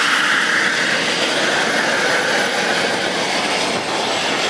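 Steady, loud roar of an RC model jet's turbine engine on a Boomerang model jet preparing to taxi, a continuous broadband whine and rush that holds level throughout with no talk.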